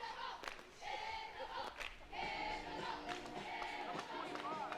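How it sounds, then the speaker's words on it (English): Softball crowd cheering and shouting for the Mule Riders on their side of the field after an RBI double in a 2023 conference quarterfinal, a steady roar of voices with shouts rising and falling. "I hear the Mule Riders all cheering over on their side of the field"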